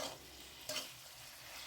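Mixed vegetables stirred and frying in a pan with poppy seed and cashew paste, a steady low sizzle with one brief louder scrape of the spoon partway through, fairly quiet throughout.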